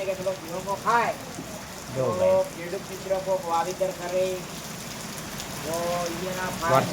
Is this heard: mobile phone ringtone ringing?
no